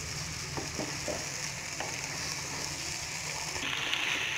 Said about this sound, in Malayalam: ആ പൊട്ടാറ്റോ ചിപ്സും കൂടി ഇട്ടിട്ട് നന്നായി മിക്സ് ചെയ്യാം.